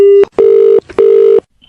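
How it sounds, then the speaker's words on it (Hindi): Telephone dialing tones for a prank call, three loud steady beeps in quick succession, clear and close with no talk over them. "अरे किसी और को फोन लगा।"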